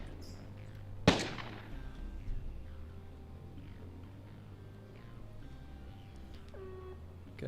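A single sharp, loud gunshot cracks out near the start of a video game firefight, followed by a few fainter shots and steady low ambient rumble.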